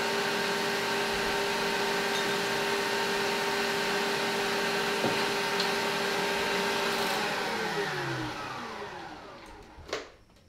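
An electric mixer whips pavlova meringue in a bowl with a steady loud motor whine, then winds down and stops near the end, followed by a brief clink.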